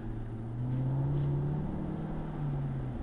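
A 2012 Maserati GranTurismo convertible's turbo engine pulls hard under acceleration, a loud, close rising drone that swells and holds for about three seconds with no speech over it.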